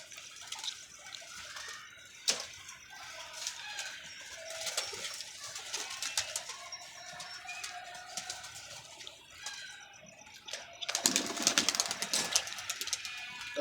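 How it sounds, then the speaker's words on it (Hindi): A pet pigeon penned with a female coos in soft repeated calls amid other bird chatter, with a louder burst of noisy activity near the end. "ये कबूतर अभी कुंदे बहुत मार रहा है"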